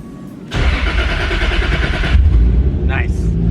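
A car engine with newly reinstalled spark plugs and coil packs cranks and catches abruptly, then runs on at a steady, close, loud idle, with brief talk near the end.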